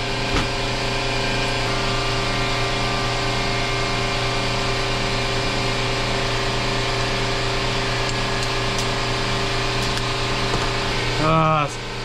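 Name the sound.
air compressor running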